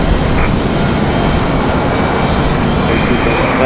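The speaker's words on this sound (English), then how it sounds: "that is Southwest 1335 headed back to Kansas City. And that was that 737 MAX 8." A Southwest Boeing 737 MAX 8 departs Raleigh-Durham, its jet engines producing a loud, steady broadband roar that holds unbroken from start to finish.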